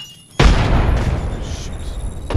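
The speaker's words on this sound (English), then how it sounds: "Look out, grenade." A grenade blast in the Apex Legends shooter game bursts in after a brief quiet moment, then a loud rumbling boom fills the rest of the clip, sustained and close, with no speech over it.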